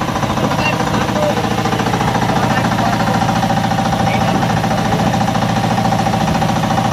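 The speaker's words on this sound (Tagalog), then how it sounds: "Tingnan natin kung makapaandar sa makina." Boat engine running steadily on the water, a loud continuous rapid chugging drone with even pulsing throughout, no distinct talk.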